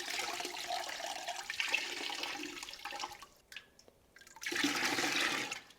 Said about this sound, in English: I'm going to pour some over this cheesecloth and get this warmed up.